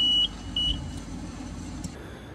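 A Nissan Silvia with an SR20DET engine and electrical faults sounds its dash and door timer chime: a loud high electronic beep, then a second shorter beep, over a low idling engine hum.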